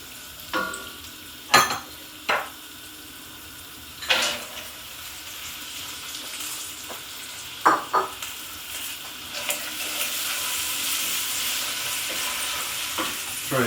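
Frozen vegetables and peppers frying in a hot pan: a steady hiss that builds into a louder sizzle, punctuated by sharp clatters and scrapes of stirring and food dropping in, no talking.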